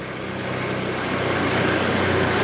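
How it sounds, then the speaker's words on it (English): A car engine hums steadily in a low, continuous drone with road noise, heard from inside the vehicle while driving in Da Nang, Vietnam, with no talking. "Can you guys hear the purr of the engine?"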